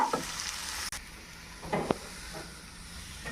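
Poha upma is stirred in a frying pan, a soft sizzle under scattered scraping strokes and a few sharper clinks of the spoon, close and fairly quiet, with no talking.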